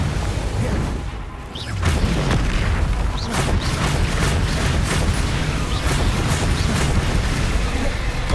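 The Confringo explosion spell in the video game Hogwarts Legacy lands as loud, dense booming blasts that fill the whole stretch, with only a brief dip before the explosions surge again.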